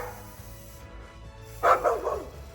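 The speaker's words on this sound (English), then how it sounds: "sometimes the dogs just want to bark at nothing" A dog barks once in a short burst partway through, loud and close, following a quiet stretch of low background rumble with no talking.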